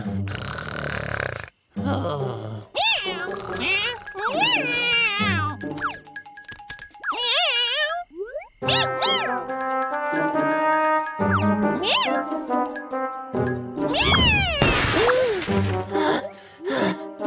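Cartoon cat from the animated series Boonie Bears meowing in exaggerated, pitch-bending cries, interspersed with squeaky vocal sounds, a tinkling jingle and grunts over a lively musical background, loud and continuous.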